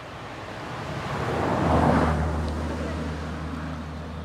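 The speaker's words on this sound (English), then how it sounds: "the road noise when the cars go past" A car passes on a road beside a lake, its tyre noise swelling gently to a peak and then fading as a low hum. It stays soft and distant against faint wind and water in the background.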